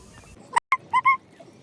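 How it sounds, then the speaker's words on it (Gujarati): A few short, sharp bird calls ring out in quick succession against a quiet outdoor background. "આસપાસનું કુદરતી વાતાવરણ પક્ષીઓનો અવાજ"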